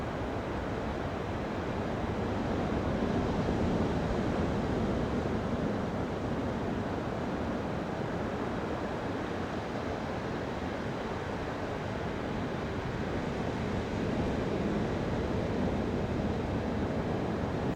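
Ocean surf at a sandbar off the French coast, a steady broadband wash of breaking waves with a wind-blown roar, continuous and even without distinct individual crashes, no voices.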